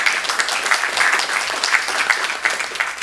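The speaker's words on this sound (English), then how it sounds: "you can give them a round of applause" Steady, dense audience applause at a Burbank city council meeting, many hands clapping at once, close and continuous throughout.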